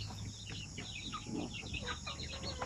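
Young breeder chickens, about 45 days old, cluck and chatter softly in a pen, with several short calls overlapping at low volume.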